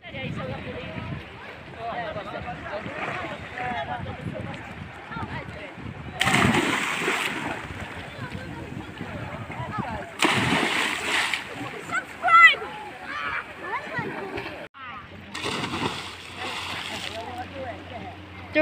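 Splashes from a person jumping into the sea at Mellieha, Malta, come as several loud, rough bursts of water amid steady outdoor background noise and nearby voices.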